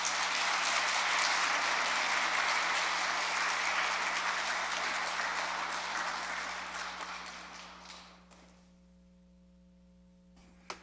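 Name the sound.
audience applause welcoming lecturer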